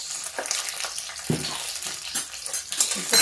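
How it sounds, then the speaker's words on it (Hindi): Hot water hits a pan of eggplant masala with a sharp sizzle, followed by scraping stirs and clinks of a utensil against the pan, close and uneven. "अब इसको हम पानी डाल देते हैं, पानी डाल के इसको घोल देते हैं।"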